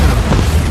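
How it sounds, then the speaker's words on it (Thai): A deep, booming power-blast explosion in inFAMOUS: First Light on PS4, with a heavy low rumble and a brief crackling burst, loud and sustained through the whole moment. "ระเบิดพลัง"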